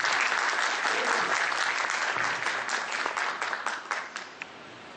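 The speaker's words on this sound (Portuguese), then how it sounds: "Então, com vocês, Marcos Lael, a quem eu saúdo com uma salva de palmas" Audience applause at a public administration seminar, a full, dense round of clapping that holds steady and then tapers off into a few scattered claps toward the end.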